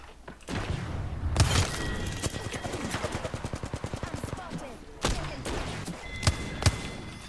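A grenade goes off amid heavy gunfire in an Apex Legends match, with a rapid rattling burst of shots and sharp thumping blasts while players talk over the action.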